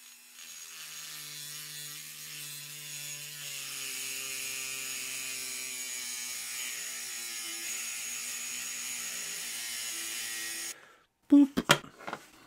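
Cutting a Hot Wheels Volkswagen bus toy, a steady close rasping tool sound that drones on for about ten seconds, then stops, followed by a few brief loud knocks.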